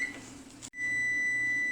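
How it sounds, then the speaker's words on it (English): A kitchen timer goes off while coconut-flour flatbread bakes in a covered skillet, giving a sustained high electronic beep that breaks briefly and resumes, clear and alone. "There's my timer going off."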